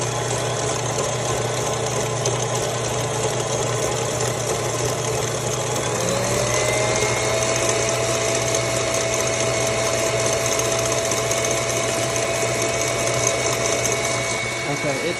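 An electric mixer whips coffee on high until frothy, a loud steady motor whine with a constant hum that runs unbroken from start to finish, the pitch shifting slightly partway through.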